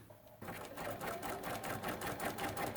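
Sewing machine stitching quilt blocks together, with rapid even mechanical clatter starting suddenly and running steadily close up, faint and without talk.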